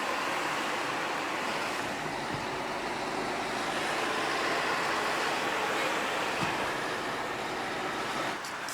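Evening surf washes onto the beach at Alanya, a continuous broadband rush of waves with faint distant traffic mixed in, steady and moderately loud throughout with no voices.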